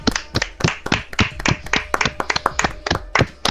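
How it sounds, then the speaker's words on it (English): A small crowd at a live comedy show claps a round of applause: loud, close and fairly sparse, with individual sharp claps standing out rather than a dense roar. "Can we have a round of applause?"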